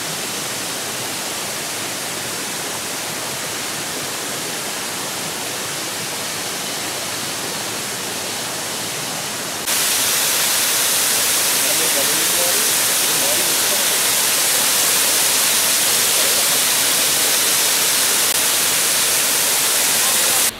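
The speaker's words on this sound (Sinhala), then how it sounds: "මේ දූවිලි ඇල්ලට අර දූවිල්ල වගේ එනවා වතුර වැටෙන නිසා ඒක නිසා දූවිලි ඇල්ල කියලා තියෙනවා." Water pours down stepped rock ledges at a stream waterfall near Neluwa, Lankagama, a steady broadband roar that grows noticeably louder and brighter partway through and continues without a break.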